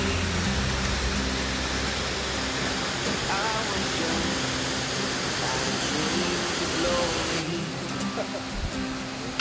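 Jaein Waterfall, which drops from flat ground over hardened lava rock, roars as a loud, unbroken broadband rush of falling water that fills the whole scene from start to finish.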